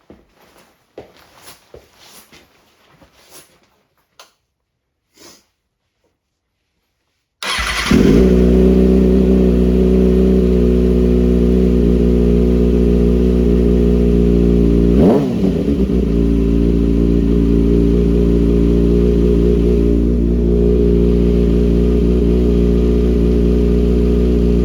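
Kawasaki ZX6R motorcycle with a quick-shifter tuning module: a few faint clicks in near silence, then the engine fires up abruptly into a loud, steady close idle, with one brief rev partway through.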